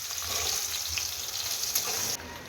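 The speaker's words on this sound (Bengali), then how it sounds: "উচ্ছে ভাজা হচ্ছে।" Bitter gourd slices frying in hot oil give a steady, close, crackling sizzle that runs unbroken and then drops off abruptly near the end.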